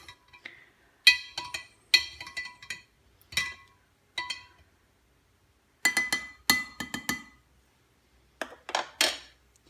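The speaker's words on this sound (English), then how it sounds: "we do need to give this a good stir to make sure that you've mixed it quite" A utensil stirs a kombucha mixture in a vessel with sharp, scattered clinks and scrapes against glass or ceramic. The taps come in irregular clusters with quiet gaps between them, close up and alone.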